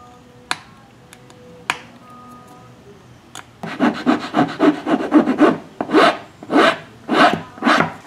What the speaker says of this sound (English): Now I gotta use some hand tools and hand sand it down